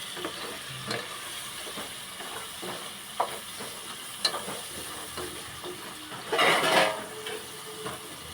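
A spoon stirs gongura curry sizzling in a pot, with scraping strokes and steady frying hiss at close range and a louder burst of sizzle partway through.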